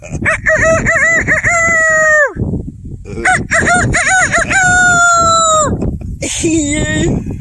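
A voice imitates a rooster crowing, several drawn-out, warbling cock-a-doodle-doo calls delivered loudly and close, back to back with brief pauses.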